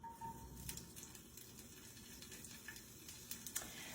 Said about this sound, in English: first I'm going to go ahead and toss in my peppers and my onions